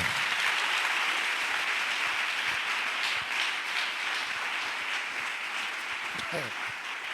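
Church congregation applauding during a worship service, a sustained wash of many hands clapping that fills the room, with voices and shouts rising within it.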